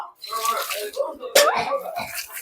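Water poured into a biryani pot over rice and kurma, a short splashing pour that swells and then trails off.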